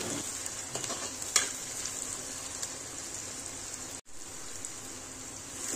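Chopped tomatoes sauté in a pan for a monsoon wild-greens stalk dish, a steady close sizzle with occasional stirring clinks and one brief cutoff, no voices.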